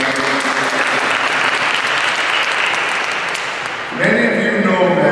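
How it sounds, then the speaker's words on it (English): A crowd at a Bronx press conference on anti-LGBTQ crime gives a loud, dense round of applause that fills the room for about four seconds, then fades as a speaker's voice comes in over the last of the clapping. "let's give him a strong round of applause for getting out"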